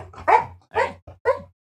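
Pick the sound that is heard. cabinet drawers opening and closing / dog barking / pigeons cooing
dog barking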